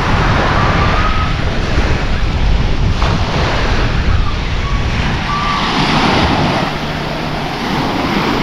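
Ocean surf breaks and rolls continuously onto a tropical beach, loud and close with heavy wind buffeting the microphone throughout.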